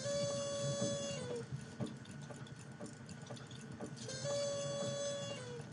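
A steam sound effect played back in Audacity gives a steady hiss with whistling tonal layers, swelling at the start and again near the end, with no voices.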